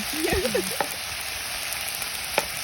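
A sweet and sour stir-fry crackles in a pan, a steady close sizzle with a few stirring clinks, while a voice speaks briefly at the start.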